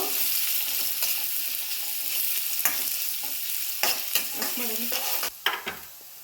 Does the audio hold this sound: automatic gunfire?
no